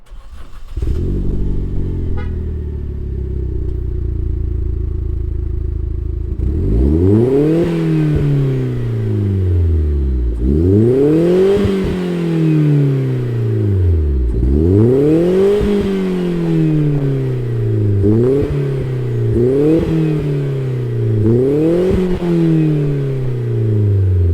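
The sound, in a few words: modified 2012 Chevrolet Sonic RS turbo engine starting and revving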